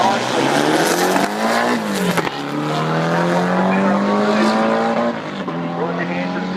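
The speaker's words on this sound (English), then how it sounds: "Roger Hansen, the blown VW yellow car, and Kylie Thomas gets out nicely." Blown VW drag racing cars launching down the strip at Warwick, a loud, close engine whine climbing in pitch through the gears with sharp shifts, under an announcer's commentary.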